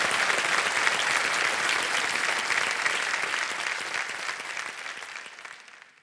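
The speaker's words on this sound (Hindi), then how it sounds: "तालियां बज रही हैं आपके लिए।" Studio audience on the KBC game show applauding a winning contestant, a dense, steady burst of clapping from a large crowd that fades out over about six seconds.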